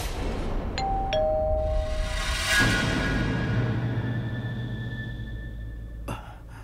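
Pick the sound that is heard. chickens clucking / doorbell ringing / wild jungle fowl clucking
doorbell ringing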